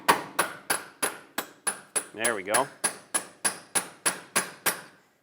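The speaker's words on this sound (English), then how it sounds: "Use a punch and a hammer, tap it in." Sharp metallic taps ring out as a hammer strikes a punch on the suspension of a 2008-2012 Honda Accord, about fourteen evenly spaced close blows; someone briefly speaks midway between strikes.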